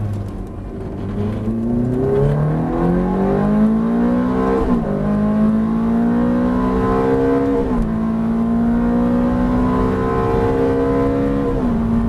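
A Porsche GT3 race car engine accelerates on track, climbing loud and close through the revs with several brief dips at gear changes before holding a high, sustained howl.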